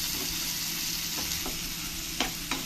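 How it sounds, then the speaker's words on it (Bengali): Tomatoes and 8-10 cashews sizzle and fry steadily in a pan, with a constant close crackle and a few light stirring scrapes near the end. "কাজু দিয়ে ভালো করে আমি টমেটোটাকে জাল দিয়ে নেব"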